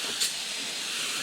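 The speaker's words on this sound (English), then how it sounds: "So we'll strip it with this carb cleaner" Carb cleaner sprayed onto a chainsaw carburetor, a steady close aerosol hiss that runs unbroken for the whole moment, with a slightly louder spurt near the start.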